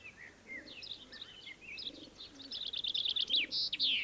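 Small birds chirp and twitter at a peanut feeder outdoors, several close, bright calls that start sparse and grow into a busier, louder run of rapid chirps toward the end.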